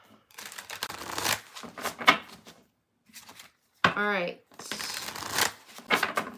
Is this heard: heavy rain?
no